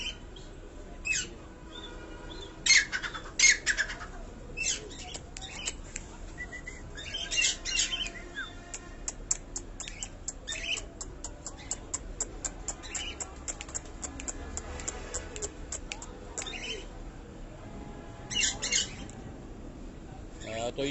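Fancy parrots calling from a rooftop, with repeated sharp squawks and chirps scattered through a steady outdoor background, some calls close and loud, others fainter, in an irregular rhythm.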